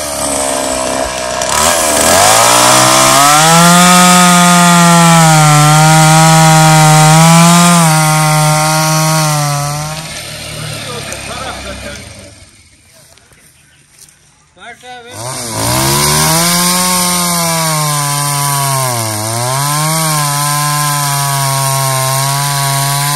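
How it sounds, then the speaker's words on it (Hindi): A chainsaw cuts down trees outdoors, its loud whining engine revving and dipping as it bites into wood, pausing briefly before starting again for another long cut. "कटर की आवाज़ आ रही है जी, जो इधर इजाफी दरख्त थे वो काटे जा रहे हैं।"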